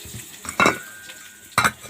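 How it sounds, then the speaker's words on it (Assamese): Onion and garlic frying in a pan, with two bright bursts of sizzling and stirring scrapes over a low steady hiss, close and fairly loud. "এইফালে পিঁয়াজ আৰু নহৰুখিনি ভাজিম"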